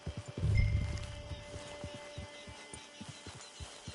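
Horse hooves clip-clopping in the Red Dead Online video game, a steady series of soft near hoofbeats after a brief low thud at the start.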